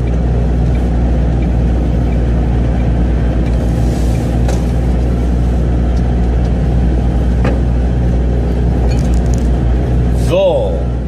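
A MAN TGX 480 truck rolls into a yard, its engine rumbling low and steady from inside the cab, with a few brief clicks and squeaks near the end.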